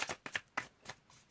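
Tarot cards shuffled in quick riffling bursts, four or five close, crisp flutters in a loose rhythm with no talking.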